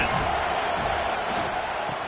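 Stadium crowd at a college football game involving Michigan State, roaring steadily at loud volume as the home fans try to rattle the offense, with a commentator's voice over the din.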